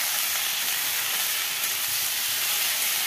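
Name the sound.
sautéing radish vegetable in a pan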